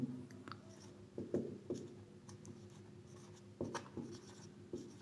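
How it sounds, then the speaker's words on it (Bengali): A pen scratches across paper while someone writes out a geometry solution. Short, close, quiet strokes come in small clusters with brief pauses between them. "এখন লিখব"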